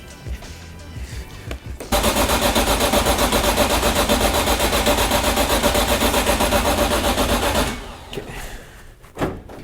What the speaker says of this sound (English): Yeah, this thing sounds like a hot rod.